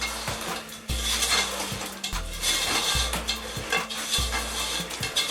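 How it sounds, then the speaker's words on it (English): A spoon stirring biscuit and marshmallow into a thick rocky road mixture in a bowl, with repeated close scraping and knocking strokes in a steady rhythm. "And give it a good old stirring."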